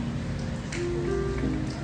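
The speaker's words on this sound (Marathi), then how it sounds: "पाऊस अजूनही चालूच आहे" Steady patter of rain falling on a surface, a soft continuous hiss with a faint tonal hum beneath.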